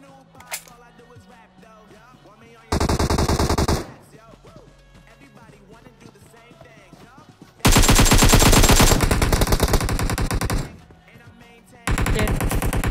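M16A4 rifle fire in PUBG Mobile comes in loud, rapid bursts of about a second or more, with quieter game sounds and voices between them.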